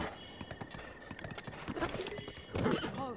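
Horse hooves clip-clopping in Zelda: Breath of the Wild, a steady rhythm of hoof beats with a short neigh near the end.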